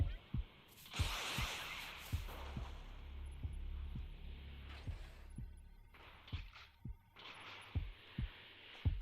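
A fast heartbeat warning thumps in Dragon Ball The Breakers, low regular pulses repeating steadily under hissing game effects and a faint hum.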